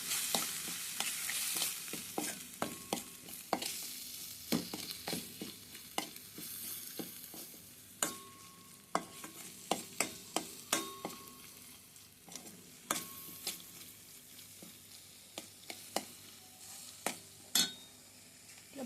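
A spoon stirs spiced potato masala curry in a pan with chilli powder, coriander powder and salt, giving repeated scraping knocks and clinks over a steady background sizzle, with no voices.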